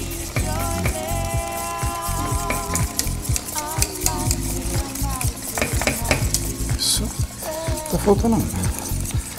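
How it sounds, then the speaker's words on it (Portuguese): Egg yolks are stirred quickly into cream in a pan with a busy scraping and clinking of a utensil against the metal over a low simmer, while people talk over the stirring. "Rapidamente você mexe, a segunda gema, isso, rapidamente você mexe."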